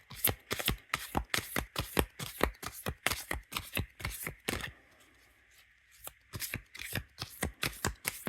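Oracle cards shuffled by hand, a rapid rhythmic series of crisp riffling snaps, close and fairly quiet, with a brief pause before the shuffling resumes; no one speaks.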